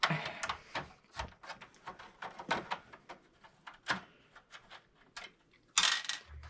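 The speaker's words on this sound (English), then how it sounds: "we'll go ahead and undo these screws here" Screws being undone on a slim computer case: a quick run of small clicks, taps and scraping metal contacts, close and fairly faint, with a sharper clatter near the end.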